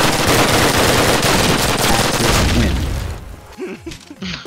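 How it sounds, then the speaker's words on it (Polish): Rapid automatic fire from a PPS submachine gun in a video game, a loud dense burst of shots running for about three seconds before cutting off, followed by a few quieter thuds and voices. "On strzela tak szybko z PPS"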